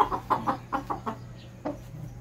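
Sweater Kelso gamecock rooster, a Roy Bunguyan line bird, clucking close by in a quick series of about seven short throaty clucks, with a steady low hum underneath.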